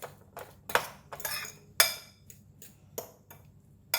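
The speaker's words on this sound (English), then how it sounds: "I'm going to use the fork just to press it down a bit." A metal fork clinks and scrapes against a bowl of chopped boiled eggs, a series of sharp separate taps and knocks at an uneven pace, close and distinct.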